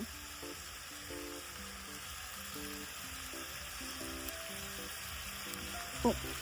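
Green peas and tuvar beans frying in a pan for Gujarati undhiyu give a quiet, continuous sizzle with faint stirring. A soft clink lands near the end, and there is no talk.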